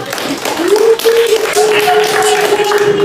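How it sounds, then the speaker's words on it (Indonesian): A classroom of students claps for classmates at the close of a lesson, a dense run of hand claps over about three seconds, with a sustained voice or tone running through it. "tepuk tangan dulu dong"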